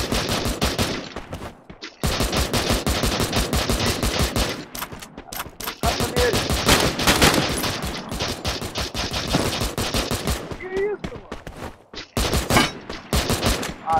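Rapid bursts of automatic gunfire in the Free Fire Max battle royale game, loud and near, with sustained volleys broken by brief pauses and some scattered single shots.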